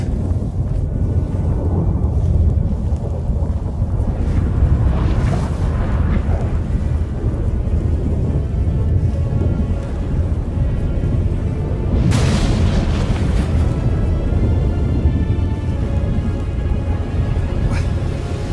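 Storm thunder in The Witcher 3 video game as the gate between worlds opens: deep continuous rumbling with heavy booming swells near the start and a louder crack-like surge around two-thirds through, no talk.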